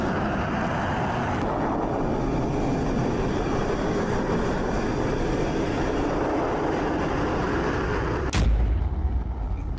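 Jet engine roar from Rafale fighter aircraft, a loud continuous broadband rumble that holds steady throughout, with a sharp burst of extra power near the end.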